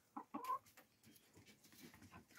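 Small hens cluck in a few short, close bursts, followed by softer scattered clucks and rustling from the flock.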